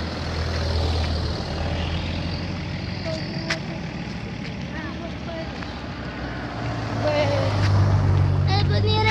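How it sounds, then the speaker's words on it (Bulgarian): Heavy road traffic with trucks passing makes a continuous engine rumble that swells louder near the end, with sharper mechanical hisses and clanks scattered through it. "Виж какъв голям трафик е."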